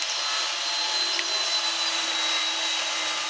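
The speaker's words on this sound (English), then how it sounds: "The neighbor turned on the power tool next door." A steady, high-pitched whine of a power tool running continuously, heard at a distance with an even, unbroken drone throughout.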